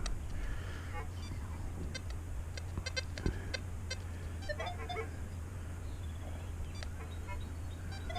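An XP Deus metal detector picks up electromagnetic interference, giving scattered short beeps and warbling chirps over a steady low hum, moderately close and continuous.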